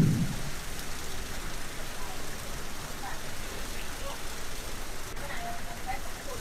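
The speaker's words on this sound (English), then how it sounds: "you can see the van getting the hot fusion wax in the tunnel." Spray jets mist hot fusion wax onto a van inside a car wash tunnel, a steady broadband hiss and patter like heavy rain, continuous and close, with a brief voice at the start.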